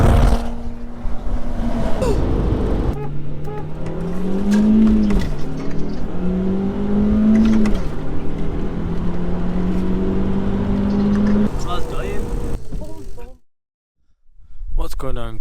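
Audi TT engine droning from inside the car, revving up and shifting through gears in repeated rising pulls, with someone talking over it and a brief cut to silence near the end.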